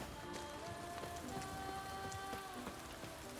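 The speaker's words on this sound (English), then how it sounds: "And it's really getting this rainy now." Steady, dense rain pours down in The Witcher 3: Blood and Wine, a continuous close hiss of drops hitting surfaces with no pauses and no talk.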